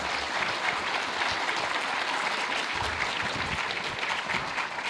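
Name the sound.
audience applause for panelists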